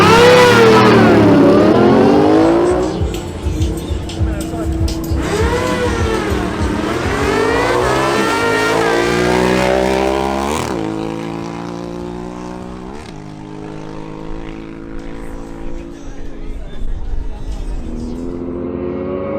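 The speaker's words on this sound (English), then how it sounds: "Ruben Torres makes another appearance on his Ducati Multistrada." A Ducati Multistrada motorcycle launches in a drag race, its engine revving hard through rising, repeated gear-change sweeps. It is loud and close at first, then a smoother high-speed drone fades as the bike pulls away.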